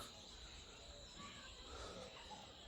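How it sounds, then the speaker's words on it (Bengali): Crickets chirp steadily on a village evening, a faint, continuous high trill spread across the background with a low rumble beneath. "আপনারা কি শুনতে পাচ্ছেন ঝিঝি পোকার ডাক?"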